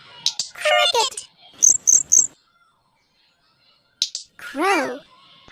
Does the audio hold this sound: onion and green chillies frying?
no